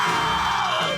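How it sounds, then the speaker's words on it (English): Loud, sustained screaming from a SpongeBob SquarePants cartoon episode, a single continuous strained yell that stays close and dominant throughout. "Hey, what's all the screaming up there?"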